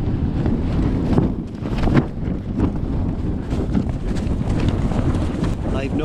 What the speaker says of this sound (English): I have no idea where this wind came from.